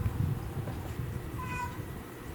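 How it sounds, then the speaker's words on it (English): A cat meows once, a brief faint call heard from beyond a closed door against a low, steady room hum. "meowing outside my door"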